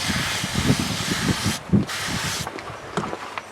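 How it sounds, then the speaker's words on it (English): A spray bottle hisses in two close bursts of fine mist over a seed tray of freshly sown raspberry seeds, with soft rustling and handling sounds underneath. "Give that a spray in."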